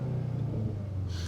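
2025 Audi S3 facelift exhaust note, a low, steady engine rumble at idle with a slight rise in revs, close and fairly loud for a brief moment.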